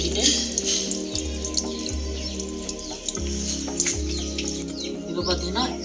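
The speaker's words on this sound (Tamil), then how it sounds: "இந்த தண்ணி ஊற்றுறது ஒரே ஃப்ளோவாக போகும் நான் ஸ்டாப்பாக" Water is poured into a jet motor pump to release trapped air, making a continuous splashing trickle over a repeating low mechanical throb. A faint high chirping sound is also present.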